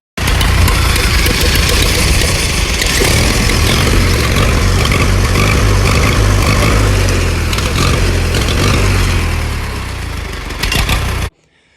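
An Allis Chalmers WD45 tractor engine running with the hood off, a loud, steady low rumble with a continuous chugging beat, holding level before dropping off and cutting out near the end.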